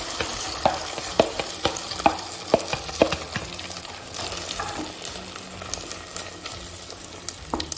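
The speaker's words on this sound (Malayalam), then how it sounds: "ഇനി നമ്മളെ ക്യൂൾ നൂഡിൽ കേക്കിൻ്റെ ബാറ്റർ ഇതിലോട്ട് ഒഴിച്ചു കൊടുക്കാം" Quail egg and noodle cake batter sizzles in a buttered non-stick pan, a steady close frying hiss broken by a few sharp clicks and taps early on, with no talking.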